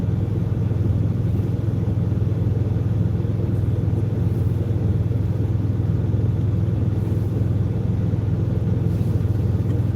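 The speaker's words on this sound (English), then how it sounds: "I don't like driving my van on the highway." A van cruising at highway speed, around 110 km/h, gives a steady, loud engine and road rumble that holds constant throughout, with no talk over it.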